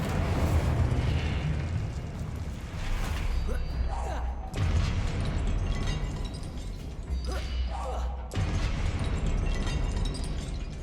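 Confringo blasting-spell explosions go off in Hogwarts Legacy amid rapid spellcasting combat. Several heavy booms and crashes arrive a few seconds apart over dense battle noise, with a voice present.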